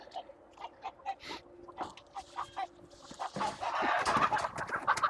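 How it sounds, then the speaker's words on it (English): Chickens clucking excitedly in a barn, a rapid run of near, loud squawks and clucks that builds into a dense, continuous flock ruckus. "Them chickens are really excited."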